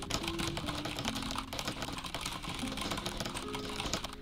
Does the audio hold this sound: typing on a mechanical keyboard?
yes